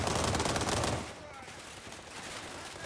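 Rapid SIG submachine gun bursts from the World War 3 shooter, loud and dense for about a second, then quieter game ambience and scattered distant shots with no talking.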